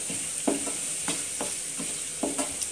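Goat brain with duck egg being sautéed in a pan, a steady sizzle with repeated stirring scrapes every half second or so, close and alone without talk.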